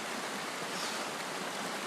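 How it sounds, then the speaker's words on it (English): A mountain creek at Paradise Park on Mt Hood, Oregon, flowing down toward the valley below, gives a steady, close, broadband rush of water without pause or talk. "now we're down at this creek that flows out to the valley below"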